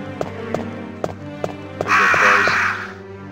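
Crows caw in the survival horror video game Resident Evil Director's Cut, with a few sharp calls over a looping in-game background of rhythmic taps and a broad hiss swelling near the end.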